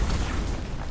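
A video game explosion: a muffled, rumbling boom lingers for about a second, dense low-end noise with no speech over it.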